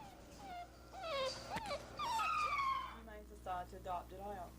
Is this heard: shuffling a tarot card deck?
no